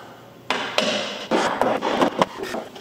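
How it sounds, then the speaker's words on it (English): A floor jack's tool tray is tapped into place, a few light knocks and taps of hard material, close and fairly quiet, with small scraping handling sounds between them. "Tool tray should fit nice and snug, so we'll go ahead and give it a couple little taps."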